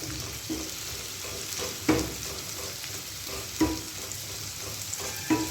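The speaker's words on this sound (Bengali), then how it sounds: "হলুদ দিয়ে ভাজা ভাজা আমার হয়ে গেছে।" Turmeric fries in hot oil in a pan, giving a steady close sizzle broken by a few sharp scrapes and taps as the spice is stirred.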